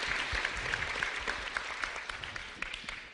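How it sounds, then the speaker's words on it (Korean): An audience at a Seoul citizens' ideas presentation event claps steadily, a dense patter of hands that holds even and then slowly thins, with no voices over it. "박수 부탁드리겠습니다."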